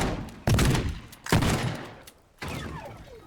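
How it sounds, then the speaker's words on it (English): Gunfire from a giant Megatron robot in Teardown, three loud, heavy blasts separated by short gaps, each followed by a decaying rumble. "Oh, I think Megatron's shooting again."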